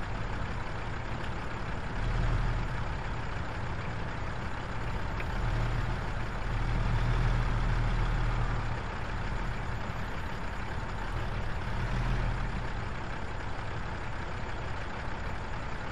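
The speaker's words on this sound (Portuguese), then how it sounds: "O barulho do motor é incrível" Truck engine idling in the Euro Truck Simulator 2 game, a steady low diesel rumble that swells slightly a few times and runs throughout without talk.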